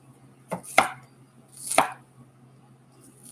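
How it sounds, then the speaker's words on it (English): A kitchen knife that may need sharpening chops vegetables for a slow cooker white bean soup, three crisp, close board strikes in quick sequence with quiet gaps between, no talk. "the way it's chopping right now, it might need to be sharpened a little bit"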